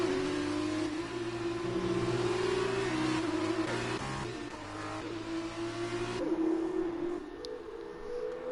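Formula 2 race cars in a racing video game, with a sustained high engine whine that shifts pitch through gear changes and passing cars, loud and continuous with no talk.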